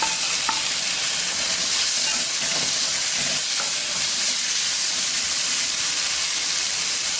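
Turkey berries sauté loudly in a pan for pachadi, a dense, unbroken close sizzle and hiss with faint stirring scrapes underneath, no voices.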